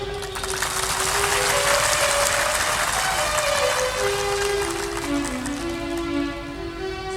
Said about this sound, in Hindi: जोरदार बजाते हैं आप, एक बार और बजा के दिखाओ